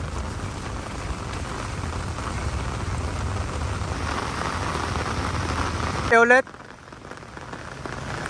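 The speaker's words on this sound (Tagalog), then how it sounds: "hindi na malakas yung ulan ngayon" Steady rain falling beside the flooded Marikina River, a constant dense hiss throughout, briefly interrupted near the end by a short burst of handling noise, with a voice speaking.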